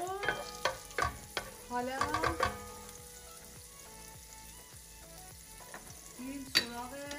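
Butter melts and sizzles in a frying pan while German knödel are being made. A soft crackling sizzle runs the whole time, broken by several clinks and scrapes of stirring at close range, and a voice briefly speaks.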